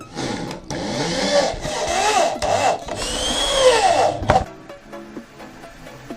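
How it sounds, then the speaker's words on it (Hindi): A power drill drives a 1.25-inch gypsum screw into the wood of a homemade table saw, whining and rising in pitch through several bursts, then stopping abruptly, followed by faint tapping and a hum. "तो इसको मैं स्क्रू से कस देता हूँ।"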